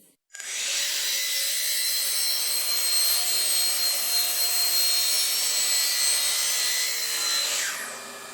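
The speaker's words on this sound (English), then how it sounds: "We're going to cut a piece of pipe that we're going to run vertically." A piece of dust collection pipe is cut in a woodworking shop, producing a loud, continuous, bright sawing rasp that holds steady for about seven seconds before trailing off.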